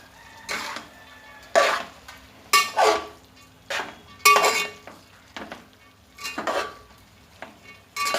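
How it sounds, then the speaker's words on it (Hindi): Rice stirred into a pan for chicken fried rice, with repeated loud scraping strokes of a utensil against the pan in bursts about a second apart over a soft sizzle. "इसमें हम राइस डालेंगे, थोड़े डाल के हिलाएंगे।"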